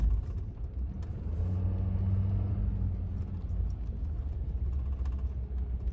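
Car cruising straight on smooth blacktop at about 30 to 40 mph, a steady low engine and road rumble heard from inside the cabin with no talking.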